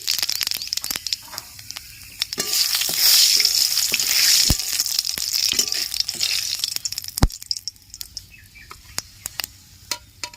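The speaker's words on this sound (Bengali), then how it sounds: "একটু তেল দিয়ে দিচ্ছি জিরে আর শুকনো লঙ্কা ফোড়ন দিয়ে দিচ্ছি" Cumin seeds and dried red chillies tempering in hot oil for a Bengal village-style recipe, a steady crackling sizzle that swells loudly midway with sharp pops and spatters, then settles to a quieter fizz.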